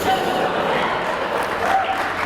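Audience applause in a university lecture hall at a humorous academic debate: a dense, steady wash of clapping that stays at an even level for the whole stretch, with no clear break.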